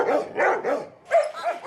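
Several dogs bark at an animal shelter where about sixty dogs are kept in kennel boxes, giving repeated loud, close barks in an uneven rhythm with a short pause partway through.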